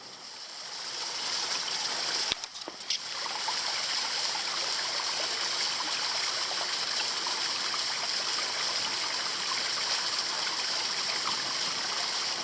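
West Canungra Creek in Queensland rushes and burbles steadily at a moderate level, with a brief knock or handling noise early on.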